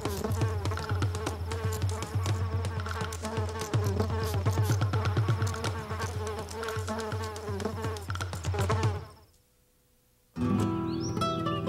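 Insects buzzing around garden flowers, a loud continuous droning hum close by with shifting pitch for several seconds, then a brief near-silent gap before the buzzing resumes.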